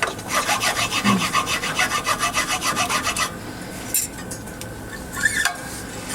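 A file rasping across a guitar nut during a setup, with steady rhythmic back-and-forth strokes up close for about three seconds, followed by lighter scraping and clinks.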